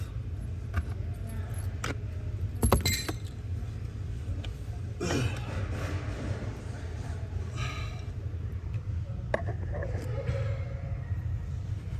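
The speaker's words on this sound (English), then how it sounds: "Let's turn the ignition back off" Keys jingle in bursts near the ignition lock of a 2006 Nissan Altima as it is switched off, clearest around the third second, over a steady low rumble inside the car.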